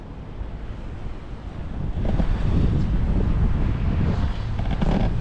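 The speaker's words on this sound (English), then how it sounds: "there is actually wind here, so it cools you down a little bit" Strong wind buffets the microphone on a remote tropical island, a steady roaring rumble that grows louder partway through and stays gusty, with no voices.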